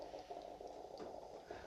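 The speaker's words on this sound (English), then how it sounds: "Let the machine finish up its process here because it's going to push all that water through the T-disc" Tassimo T45 coffee machine forcing hot water through a T-disc, a steady close bubbling, gurgling hiss that keeps going without a break.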